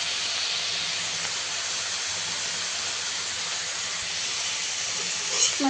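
Greens frying in a pan — a mix of four fresh garden greens including radish leaves, bottle gourd leaves and bottle gourd shoots — give a steady, loud, hissing sizzle throughout, with a few faint clinks near the end.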